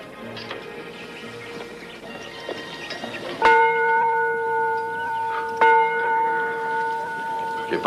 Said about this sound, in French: Jeune homme, fais sonner la cloche.